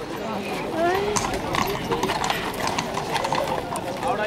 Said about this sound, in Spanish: los caballos que va a haber aquí